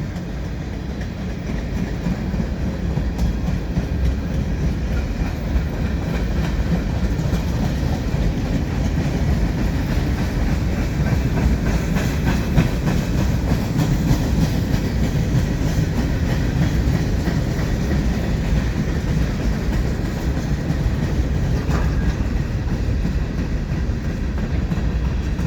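Long CN freight train of empty center beam skeleton cars rolling past close by, a loud continuous rumble with rhythmic clickety-clack of wheels over rail joints lasting the whole time, no talk.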